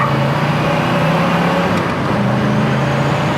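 A 1970 Ford Mustang Fastback with a 351 V8 idles steadily, a low, even engine rumble with a faint harmonic hum holding constant throughout.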